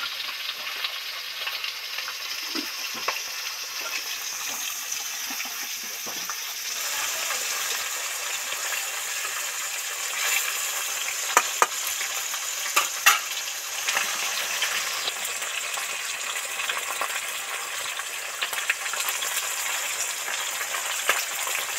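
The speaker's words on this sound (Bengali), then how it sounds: "মাছগুলো তো ডিপ ফ্রাই করে ভেজে নিলাম" Bata fish deep frying in hot oil gives off a continuous soft sizzle and bubbling hiss, with occasional small clinks and pops, fairly quiet and steady throughout.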